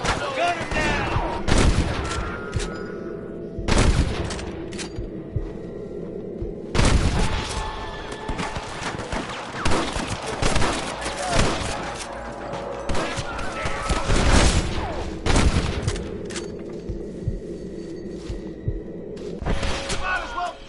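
A video game shootout against a rustler guard fills the scene with repeated loud gunshots and booms, some in quick bursts and others spaced apart, with game voices and background score running underneath.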